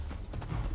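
Horse hooves clip-clop in Rise of the Ronin, a quick run of faint hoofbeats heard briefly and alone.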